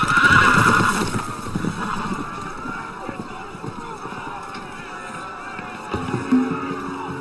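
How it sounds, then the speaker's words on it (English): A horse neighs loudly at the start of a video game scene, followed by quieter whinnies and background noise, with voices faintly mixed in. "The horses! They're loose!"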